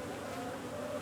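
Honeybees in an open hive sparse on comb but crowded with bees hum in a steady, dense drone close by, with no break through the short moment.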